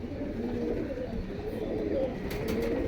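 Pigeons coo softly and repeatedly against a busy background murmur at a pigeon market, their low calls rising now and then through the noise.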